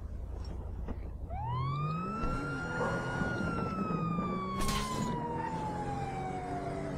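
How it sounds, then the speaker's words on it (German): A police car siren in the video game GTA V winds up and holds a loud, close wailing tone over engine rumble, with a brief crash or burst of noise partway through. "Ich nehme jetzt das Polizeiauto und hau damit ab."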